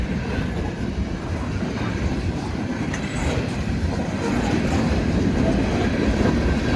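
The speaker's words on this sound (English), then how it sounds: "Servotrans reefer car, there it goes right now." CSX freight train cars roll past during a blizzard, a loud continuous rumble with rhythmic wheel clatter and faint squeals that grows slightly heavier toward the end.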